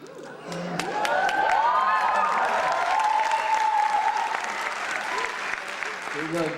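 A large audience at a public speaking event breaks into sustained applause, dense and steady at close range, with a voice speaking over it.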